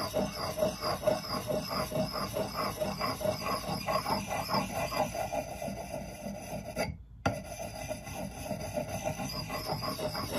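An axe edge is filed and honed to raise a burr, giving a steady, close rasping scrape in quick repeated strokes that pause briefly near the end before resuming.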